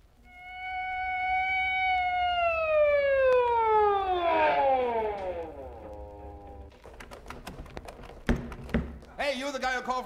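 On a comedy vinyl record, a loud ambulance siren effect wails and then slides downward as it fades, followed by knocks and clattering sounds, with a voice beginning at the end.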